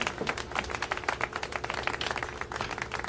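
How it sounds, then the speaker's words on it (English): A school assembly audience gives a steady round of applause for the day's speakers, with dense overlapping hand claps at moderate volume and no voices over it. "Please give a round of applause for today's speakers"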